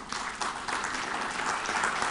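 Conference audience at a national public power association gathering breaks into applause, a short, moderately quiet burst of clapping heard from a distance with no voices over it.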